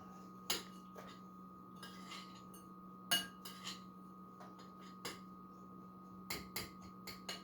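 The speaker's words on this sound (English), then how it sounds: "I like using a spoon, is so I can crush up the big chunks of graham crackers" A spoon scrapes and taps against a pan while crushing graham cracker chunks pressed with butter for a sugar-free chocolate cheesecake crust, giving scattered faint clinks over a steady low hum.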